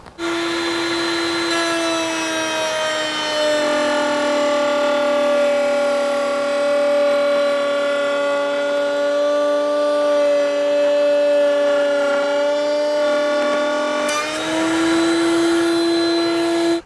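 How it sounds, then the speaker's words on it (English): A router table cuts a groove in wood, its high, steady motor whine running loud and close for about sixteen seconds while the pitch dips slightly under load mid-cut, with a dust collection system attached. "So let's cut this groove in here and let's see what kind of mess we make."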